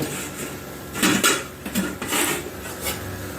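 A metal lid goes onto a pot of cauliflower cooking with a little water, producing a few close clanks and scraping clatters of metal on metal.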